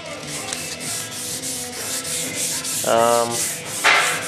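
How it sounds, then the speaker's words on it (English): Sandpaper worked by hand across a surface in a garage, making steady rhythmic back-and-forth scratchy strokes, close and continuous with no talk. "don't use the sticky side because it doesn't really sand very good"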